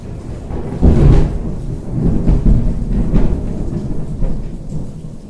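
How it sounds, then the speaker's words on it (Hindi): Heavy rain falling outdoors, a dense steady patter with low rumbling swells like distant thunder, heard from inside and moderately loud, with no talking over it. "कमाल बारिश हो रही है बाहर।"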